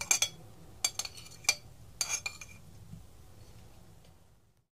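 Chopped cucumber, coriander leaves and tomato mixed together in a bowl for a Bangladeshi tuna sandwich, with a few sharp clinks and scrapes of a utensil against the bowl in quick bursts, then fading to quiet.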